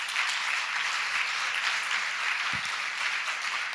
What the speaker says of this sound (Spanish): quiero que le mandemos un aplauso